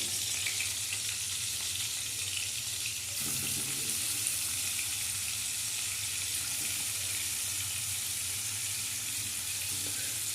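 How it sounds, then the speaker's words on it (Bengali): Paneer cubes being added to a hot kadai and fried, giving a steady broadband sizzle that continues without pause, with a slight rise in intensity partway through and no talking. "পনিরগুলো দেওয়া হচ্ছে কড়াতে।"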